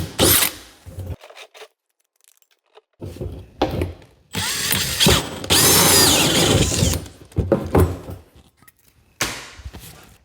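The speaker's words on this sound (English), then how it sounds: "take our 3-inch hole saw and just run a couple of holes through the can" A 3-inch hole saw chews through a metal can in two loud bursts of grinding, rasping drilling with quiet pauses between them; no one speaks over it.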